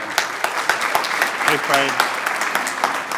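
Applause from an audience welcoming a congressman to the grand opening of the Lynnwood Neighborhood Center, steady clapping throughout with a brief spoken word over it.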